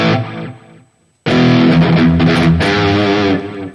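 An electric guitar runs through the distortion block of a Valeton GP-200 multi-effects unit, played loud and close: a short chord that decays into near silence, then a burst of tight, saturated chords and riffs ringing out alone.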